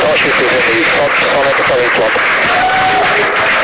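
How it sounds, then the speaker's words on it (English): A crowd at SpaceX Mission Control in Hawthorne cheers and applauds during the fifth Starship flight test, loud and continuous, with a voice talking over it. "The crowd here at Mission Control Hawthorne also getting excited, just like us."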